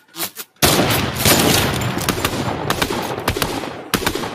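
Rapid bursts of automatic gunfire in a Fortnite match, loud and dense for several seconds with a few sharper single shots and a brief pause near the end, no talking.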